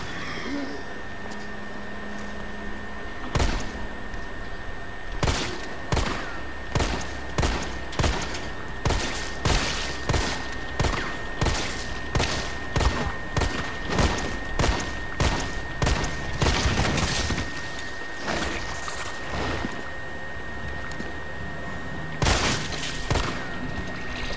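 Gunfire in the survival horror game Resident Evil 3: a long run of loud, evenly spaced shots in close succession over a humming background, pausing near the end before a final pair of shots.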